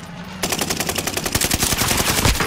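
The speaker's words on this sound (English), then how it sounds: "Someone's shooting at us." Rapid automatic gunfire rattles out in a fast, continuous burst in a battle royale video game, loud and close with no talk over it.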